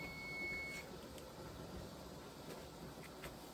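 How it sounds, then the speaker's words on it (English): A high electronic kitchen timer beep sounds once at the start, thin and steady, then stops, leaving a faint hiss of background noise. "timer's beeping."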